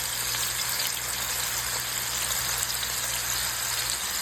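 Jalapeño and mozzarella stuffed barbecue meatballs searing in a hot pan, a steady, even sizzle that carries on without a break.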